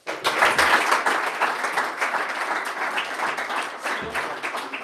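An audience at a startup event bursts into steady applause, loud and dense at first and then thinning slightly over about five seconds.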